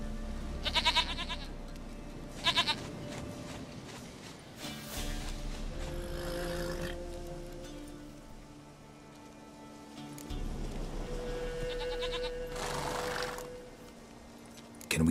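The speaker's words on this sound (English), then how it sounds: "Goat of mine! Dearest, sweetest goat!" A goat bleats in The Witcher 3, several short nasal cries spaced through the clip over a layer of game music and ambient drone, with no speech.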